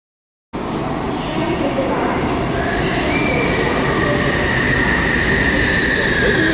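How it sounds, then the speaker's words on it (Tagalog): Loud, steady rumble of an LRT light rail train in Manila in motion, wheels grinding on track with occasional high metallic squeals, heard from inside. "umpisa natin dito sa pagsakay ng LRT"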